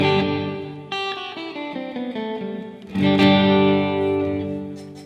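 An electric guitar plays a few notes and chords through reverb, and each one rings out and blooms into a lingering wash. The phrase is clear and alone, with no talk over it.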